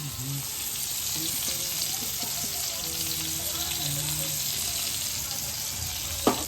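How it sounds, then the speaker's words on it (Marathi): Prawns coated in masala fry in a pan with a steady, close sizzle. Faint voices murmur in the background, and a single clatter sounds near the end. "तर हे बघा आता आपण मस्तपैकी प्रॉन्स फ्राय करत टाकलेले आहेत भक्तीने"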